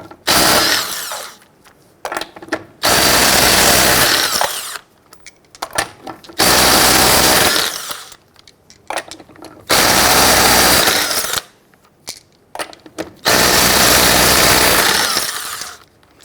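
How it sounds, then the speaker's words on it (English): A power tool with a 19mm socket rattles loudly in four long bursts, loosening lug nuts on the rear wheels of a 1999-2004 Jeep Grand Cherokee, close up and with short pauses between nuts. "Using your 19mm socket, loosen and remove your lug nuts."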